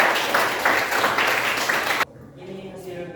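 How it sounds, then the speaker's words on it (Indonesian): An audience claps in a classroom or hall setting, a brief burst of applause that cuts off abruptly, followed by quieter room sound with a voice. "Tepuk tangan."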